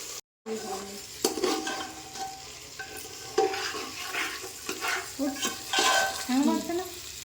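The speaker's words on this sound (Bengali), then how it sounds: "তো দেখো ভালোভাবে নেড়ে চেড়ে দেখো মিশিয়ে নেব।" Moong dal frying in a pan while being stirred, irregular scraping and clinking strokes of a spoon over a soft underlying sizzle, with short pauses between bursts of stirring.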